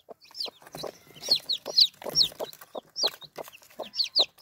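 Hen clucking repeatedly near newly hatched chicks, with high thin chick peeps scattered over the steady close clucks and no talk.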